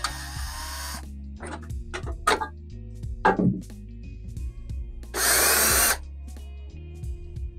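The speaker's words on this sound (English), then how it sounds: "I do hope you like the sound of a drill." A power drill whirs in several short bursts, with a longer, louder spin near the end, broken up by clicks and handling noises close by, removing screws from the cover of an ElphaPex DG-1 crypto miner.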